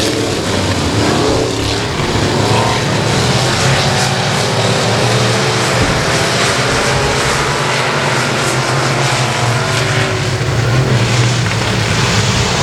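Stock cars roar around the Texarkana 67 Speedway oval at the green flag of a hot stock feature race, a loud, dense wall of engine noise sustained throughout with no gaps.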